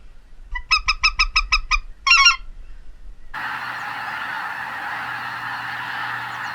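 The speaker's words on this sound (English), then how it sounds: "There's a lot of geese." Geese honking in a rapid burst of about eight calls, then a second cluster, loud and near as a flock passes overhead during an Arkansas duck and goose hunt, followed by steady wind or engine-like rumble.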